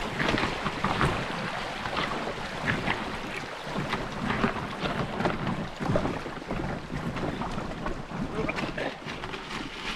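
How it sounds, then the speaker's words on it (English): Bicycle ridden through a shallow creek early in the morning on a bikepacking trail in British Columbia, water splashing and rushing continuously with wind buffeting the microphone. "Not even 7 in the morning and doing the first creek cross of the day."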